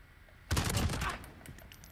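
Silverstar AUG rifle in a video game firing a rapid automatic burst that starts suddenly, loud and close, then tails off into quieter scattered shots.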